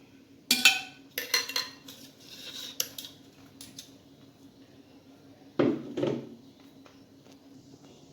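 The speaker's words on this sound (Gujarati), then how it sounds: "હવે મૂંગફળી દાણા નાખશું અને બેને મિક્સ કરી દેશું" A spoon stirs dates and peanuts together in a pan, with a few sharp metallic clinks and scrapes in short clusters between quiet gaps, close and moderately loud.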